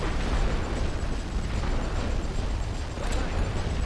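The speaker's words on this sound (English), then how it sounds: "Keep the artillery fire up." Continuous rumbling artillery fire from a World War I battlefield in The Great War: Western Front strategy game, a dense low roar of distant blasts with a brief sharper crack near the end, no talking.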